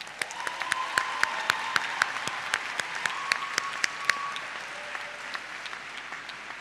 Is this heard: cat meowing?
no